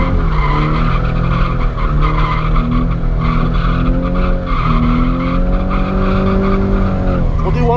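A Nissan 350Z drifting on a track, its tires squealing and skidding loudly and continuously over the strained engine note, the howl bending in pitch as the car slides through transitions.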